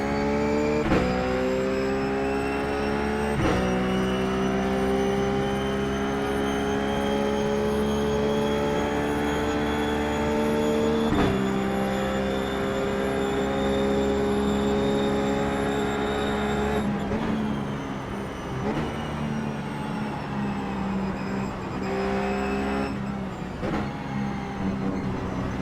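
A Ruf GT3 race car in the iRacing sim at Mosport, its engine droning loudly and continuously with repeated rising revs and sharp gear-change breaks as it laps, no talking.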